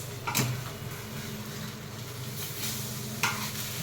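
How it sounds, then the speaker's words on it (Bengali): Eggs fry in oil in a pan with a steady, close sizzle and a couple of brief scraping stirs. "अंडा फ्राई हो रहा है फ्रेंड्स"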